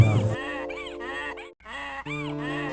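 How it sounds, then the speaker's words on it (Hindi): A cartoon donkey brays loudly at night, a string of harsh, wavering honking calls repeated several times with a brief gap midway, close and prominent with no talk over it. "गधे के रैंकने की आवाज़ जब चोर के कानों में पड़ी"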